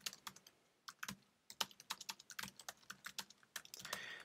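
Quick, uneven clicks of keys on a computer keyboard while editing a website, close and crisp, with short pauses between bursts and a faster flurry near the end, no talk.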